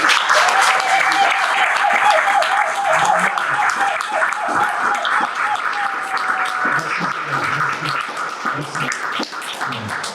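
A church congregation applauds and cheers continuously at a worship service, a dense, loud wash of clapping with voices calling out throughout and a sustained sung or shouted tone running beneath the crowd.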